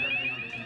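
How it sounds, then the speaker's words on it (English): A fire alarm in a shared house sounds a loud, continuous high-pitched electronic tone for a brief moment. "I pressed the fire alarm."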